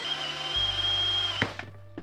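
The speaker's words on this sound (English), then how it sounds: "I switched to a hole saw and drilled a 2-inch hole all the way through." A power drill with a 2-inch hole saw cutting through wood whines steadily at high pitch, its tone dropping once it breaks through, then winds down.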